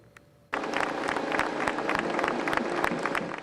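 Sustained applause and scattered cheering greet returning World War II veterans, including a former prisoner of war, arriving home from Northwest Ohio's first Honor Flight; it bursts in suddenly after a quiet moment and stays loud and dense throughout.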